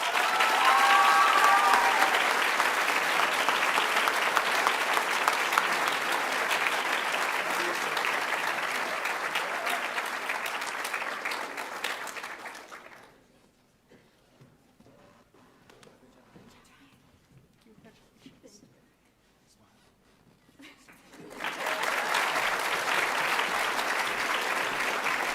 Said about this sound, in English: Please give a round of applause to Magnolia Kushnick.